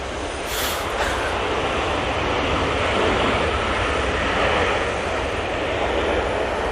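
A Virgin Atlantic Airbus A330 jet arriving from Atlanta at Manchester Airport, a loud, sustained broadband engine roar that holds steady throughout, with a brief high hiss near the start and no voices.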